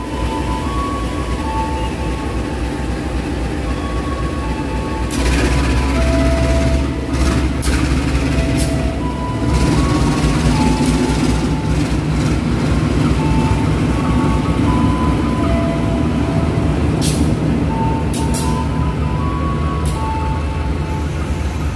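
The Joko Kendil, a vintage 1938 passenger train, rumbles steadily along the Jakarta–Cikampek line with a low continuous drone, a few sustained horn-like tones, and intermittent sharp clanks and rattles.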